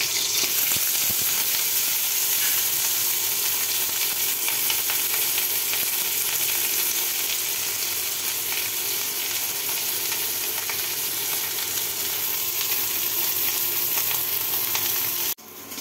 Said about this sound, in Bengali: পেঁয়াজ এবং কাঁচামরিচ ভাজা হয়ে গেছে